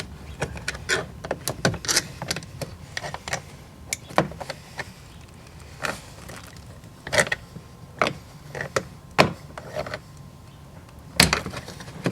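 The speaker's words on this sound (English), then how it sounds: "we need to pop this switch panel off of the door panel" Prying a switch panel off the plastic door panel of a 2007-13 GM truck such as a Silverado, Tahoe, Sierra or Yukon: sharp clips and pops, plastic clicks and handling rattles in irregular bursts, close and alone.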